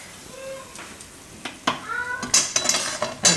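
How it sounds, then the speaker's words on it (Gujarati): A spoon scrapes and clinks against a pan while ragi upma is stirred over low gas, giving scattered metallic taps and scrapes that grow busier toward the end. A short high tone is heard early on. "હવે મિક્સ કરી લેવું ને હલાવી લેવું."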